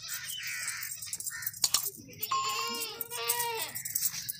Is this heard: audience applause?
no